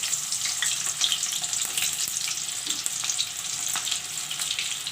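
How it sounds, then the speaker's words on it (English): Onions and red chili fry in hot oil, giving a close, continuous crackling sizzle with small popping bursts and no voices. "Now I will put in the onions and the red chili."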